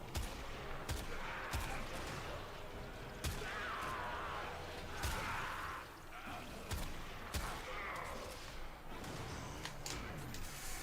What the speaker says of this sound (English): It definitely feels like a sniper rifle.